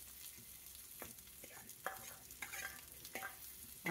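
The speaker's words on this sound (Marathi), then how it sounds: "आता याच्यावर मी कांदा टाकून घेणार आहे चिरलेला" Chopped onion frying in a pan on lowered gas heat, a soft sizzle broken by several scraping stirs of a spatula against the pan, close and fairly quiet with no talking.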